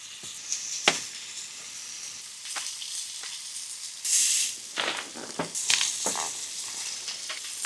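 Steaks sizzling on a hot tent stove out in snowy wilderness, a soft steady fizz broken by sharp crackles and pops, with one louder burst of hissing midway.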